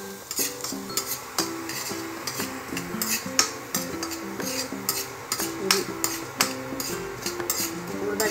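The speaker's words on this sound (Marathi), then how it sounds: "तर आता ही उडदाची डाळ, ती पण आपण थोडी भाजून घेऊ।" Urad dal roasts dry in a pan for curry leaf chutney while a spoon stirs it steadily, giving repeated close scraping and clinking strokes over a soft continuous rustle, with no talking.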